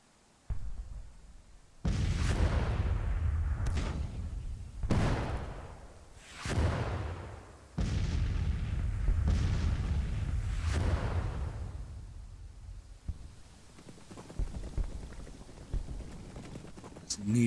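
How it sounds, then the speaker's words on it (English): Artillery fire in the Civil War strategy game Grand Tactician: The Civil War, several loud booming blasts spaced a second or two apart, each with a long rumbling decay, followed by quieter battlefield noise. "They're firing at my artillery."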